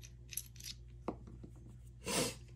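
A part being cut during a Polarstar Jack installation in a G&G CM16 Predator airsoft rifle, a few soft close snips and clicks ending in a brief louder scraping rasp, otherwise quiet.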